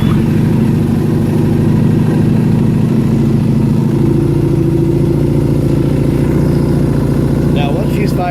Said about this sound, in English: once she's fired up, you'll hear the RPMs go up a little bit